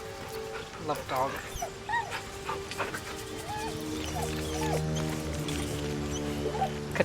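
Dog in the game Baldur's Gate 3 whimpering and whining in a string of short, high, wavering cries at close range, with a voice talking over it and a steady low background hum.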